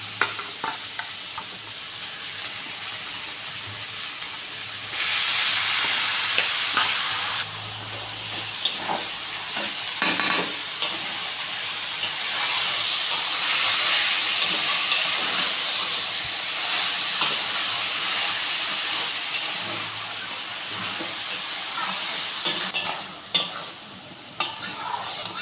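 Boiled banana flower sizzling and frying in a pan with green chillies for a vegetarian mochar ghonto, with steady hiss and repeated scraping stirs throughout, fairly close and with no talking.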